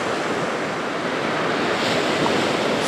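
Small surf waves on the sea at Anapa rustle steadily on a calm day, a continuous soft wash of breaking water close by with no talk.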